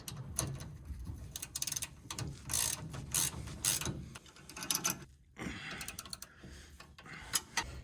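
A ratchet tightens the tie rod adjusting sleeve on a 1971 Chevelle, bursts of rapid clicking with short pauses between strokes, close and clear.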